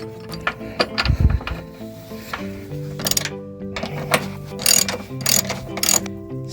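A ratchet snugs up the rear shock absorber bracket bolt on a 2013-2017 Enclave, Traverse or Acadia, giving bursts of close, rapid clicking separated by short pauses.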